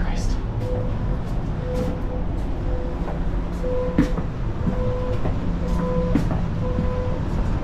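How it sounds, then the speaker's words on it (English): Passenger train running with people aboard, a steady rumble of rail travel with faint periodic clicks and tones, while voices talk over it throughout. "We got on the train."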